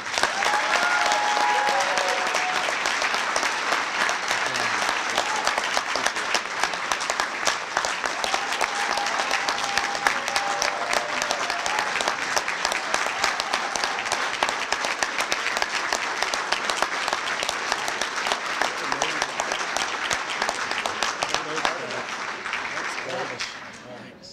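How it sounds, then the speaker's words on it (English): Sustained applause from the audience at a high school football banquet, a dense, even clatter of many hands clapping that runs for over twenty seconds before tapering off at the end. "Let's clap it up for Isaiah."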